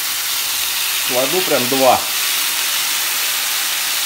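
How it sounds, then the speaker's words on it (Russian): Marinated, salted salmon steaks sizzling in a frying pan over good heat: a loud, steady hiss of frying that runs throughout, with someone briefly speaking over it partway through. "И я их укладываю на сковороду."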